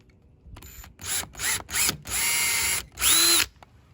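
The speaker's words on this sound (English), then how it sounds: "I'm gonna try to drill a pilot hole in this." Several quick bursts of a power drill spinning up and stopping while drilling a pilot hole in a rain barrel for a spigot, separated by brief pauses, recorded up close with no voices.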